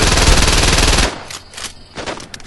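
Rapid automatic gunfire in Saints Row 2 rattles loud and close for about a second, then breaks into a few scattered, fainter shots.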